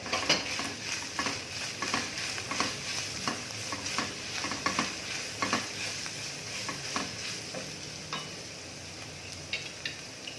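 Chopped onions fry in a pan, a steady sizzle under repeated scraping stirs of a utensil against the pan, close and fairly quiet, with no talking.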